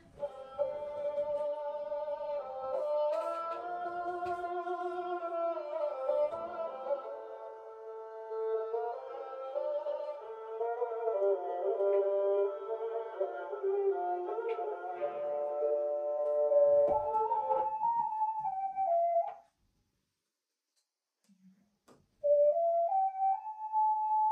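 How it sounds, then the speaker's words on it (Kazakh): A kobyz, the Kazakh bowed string instrument, plays sustained, gliding melodic notes for about twenty seconds, stops briefly, then resumes with a single held tone. "Қанекел тыңдайық қобызды."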